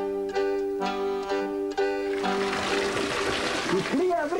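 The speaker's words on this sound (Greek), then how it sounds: "Η κρύα βρύση." Water pours from a cold spring fountain in a steady, close splashing stream that takes over after a sustained tonal sound, with a voice briefly heard near the end.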